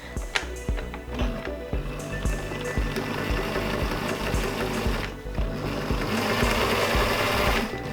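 A sewing machine stitches a hem along the bottom of a garment, its needle clattering in a fast, steady mechanical rhythm with brief pauses, close and clear with no talking.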